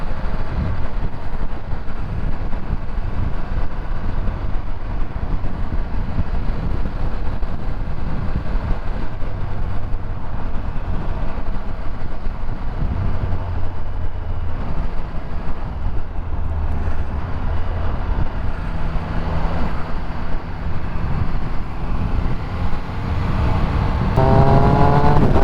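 A Triumph Speed Triple 1200RS motorcycle rides steadily with a continuous engine drone and heavy wind rush, shifting up through the gears as the engine note changes, loud and close throughout.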